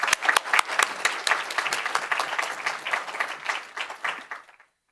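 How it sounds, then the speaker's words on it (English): Audience applause fills a church hall, a dense burst of many hands clapping at steady strength for about four seconds before thinning out and stopping. "So let's give him a round of applause."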